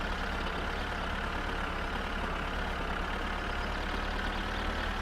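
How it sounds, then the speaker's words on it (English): A tractor engine pulls steadily along in the video game My Summer Car, a loud, continuous low mechanical drone that holds an even pitch without pauses or voices. "this is actually a decently quick tractor, well, for a tractor at least"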